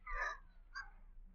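A parrot squawks in a radio drama, two harsh rasping calls, the first longer and louder, the second short and fainter, alone against quiet room tone.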